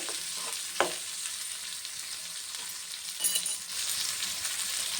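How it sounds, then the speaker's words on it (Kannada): Red chutney ingredients for dosa and idli sizzle steadily in hot oil in a pan, a close, continuous hiss with a few sharp clinks and scrapes of a spoon stirring, no voices. "ಈ ಚಟ್ನಿಗೆಲ್ಲ ಇದರಲ್ಲೇ ಎಣ್ಣೆಲೇ ಬಾಡಿಸ್ಕೊಂಡ್ರೆ ಚೆನ್ನಾಗಿರುತ್ತೆ"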